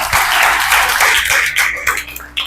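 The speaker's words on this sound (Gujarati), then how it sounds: "જોરદાર તાળીથી વધાવો એકવાર" Audience applause rising in a loud burst of clapping that thins out toward the end, with a few scattered claps remaining.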